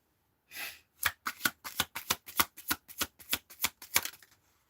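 A deck of tarot cards is shuffled in a quick run of about a dozen crisp riffling bursts, preceded by one softer slide, close up and alone with no talking.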